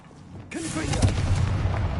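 A Confringo blasting spell erupts in a Harry Potter video game: after half a second of quiet, a sudden loud blast bursts in and becomes a sustained, crackling rumble with debris-like clatter, and no one speaks.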